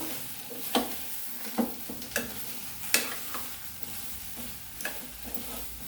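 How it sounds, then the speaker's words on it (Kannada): Drumstick (moringa) pieces fry in a pan with a soft continuous sizzle, broken by several light scraping stir strokes against the metal at irregular intervals. "ಈಗ ನುಗ್ಗೆಕಾಯಿ ಹಾಕಿದ್ದೀನಲ್ಲ ಇದನ್ನು ಒಂದು ಎರಡು ನಿಮಿಷ ಹಾಗೆ ಸಣ್ಣವರಿಲಿ ಫ್ರೈ ಮಾಡ್ಕೋಬೇಕು"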